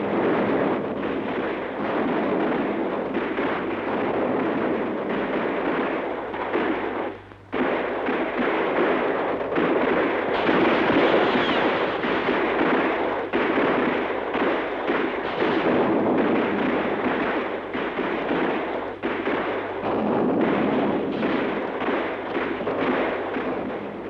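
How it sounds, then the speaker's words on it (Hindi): Troops fire on a crowd at Jallianwala Bagh, a continuous roar of dense overlapping gunfire with crackling volleys and booming reports, loud and sustained for over twenty seconds with one brief dip. "बिना चेतावनी दिए जनरल डायर ने गोली चलाने का हुक्म दे दिया।"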